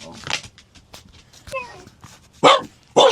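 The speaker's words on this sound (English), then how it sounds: "You don't need to bark. No barking." Dottie, a pet dog, gives a couple of loud, close barks after softer whimpering noises, while a person talks to her.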